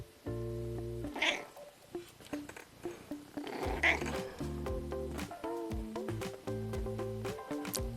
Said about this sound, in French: le chat miaule